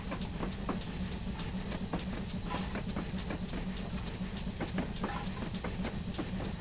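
GWR Hall 4900 Class steam locomotive in Train Simulator on the Falmouth Branch Line, slowing down: steady hiss and rumble with repeated rhythmic clicks of wheels over rail joints, continuous and fairly loud.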